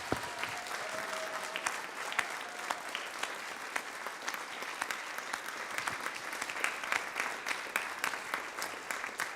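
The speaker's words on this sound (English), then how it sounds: "can we have one final round of applause" A final round of audience applause at a TEDx education event in Luxembourg City, steady sustained clapping from a large crowd heard at a moderate distance.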